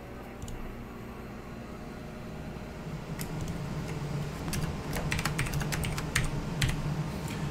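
Fingers type steadily on a computer keyboard in a ham radio shack, the clicks growing denser in the second half over a constant low hum of equipment.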